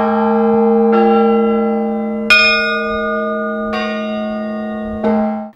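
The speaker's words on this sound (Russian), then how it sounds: "чтобы не только послушать благовест, но и прикоснуться к этому чуду – колокольный звон" Church bells ring out from a bell tower during Easter week, four loud, resonant strikes spaced about a second and a half apart, each one blooming into a long sustained hum that lingers between hits.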